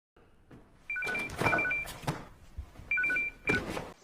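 A telephone rings in two short warbling bursts, one near the start and one toward the end, loud and close in a quiet room with no talk.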